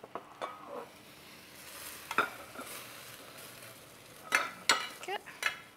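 Chicken enchilada filling stirred and sizzling in a hot pan, with soft crackling frying texture and a few sharp scraping clicks of a utensil, close and moderately quiet, no talk.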